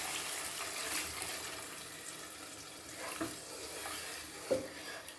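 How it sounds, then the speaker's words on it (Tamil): Water, about three tumblers, is poured into a pan of sautéed chicken for chicken kuzhambu, making a steady rushing splash and hiss with a few stirring knocks, fairly quiet, with no talking. "இப்போ நம்ம 3 டம்ளர் தண்ணி ஊற்றணும்"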